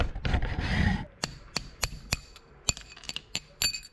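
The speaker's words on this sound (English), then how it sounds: "you're gonna wanna knock this pin out" Sharp metallic hammer strikes on a punch, knocking a pin out during a VW Audi 01E transmission LSD conversion: a dense scraping burst, then about a dozen separate taps at uneven intervals, close and fairly loud.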